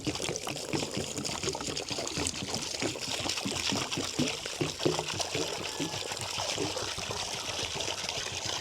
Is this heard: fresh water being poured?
yes